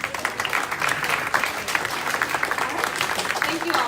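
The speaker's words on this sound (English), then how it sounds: "Can you give yourselves a round of applause?" Attendees at a vegan technology panel applaud themselves, a moderate, steady patter of many clapping hands from a mid-sized crowd, with some voices mixed in beneath the clapping.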